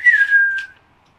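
A person whistles one short, clear sliding note at night near the woods, close and loud, fading out within a second.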